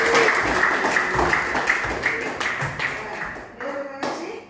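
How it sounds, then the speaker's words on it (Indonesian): A classroom of students claps for a group at the end of a lesson, a dense, fairly loud burst of clapping that thins out over a few seconds, with some murmured voices underneath. "Kita kasih tepuk tangan dulu untuk kelompok yang"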